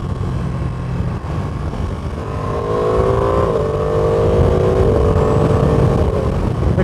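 A 2024 Ducati Panigale V2 engine heard while riding, a steady loud drone that climbs in pitch as revs build, with a smooth rising tone and wind noise and no talking.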